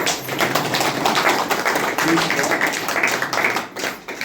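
Church congregation applauding for the Lord, a dense steady patter of many hands clapping close by, with a faint voice briefly over it.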